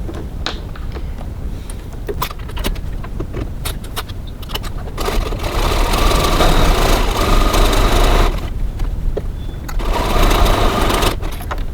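A domestic sewing machine with a zipper foot stitches the bottom seam of a cross-body bag in loud, steady motorized bursts, with a brief pause near the middle.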